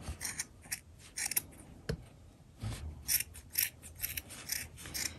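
Scissors snip through wool yarn for a pom pom Easter chick, a series of quiet, close crunching cuts in uneven bursts with short pauses between them.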